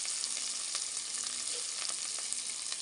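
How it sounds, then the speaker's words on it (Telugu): Onion, green chilli and curry leaves fry in hot oil with cumin and dried red chilli, giving a dense, continuous close sizzle and a few faint stirring taps. "సరిపడా ఉప్పు వేసి చక్కగా ఎర్రగా వేగనిద్దాం"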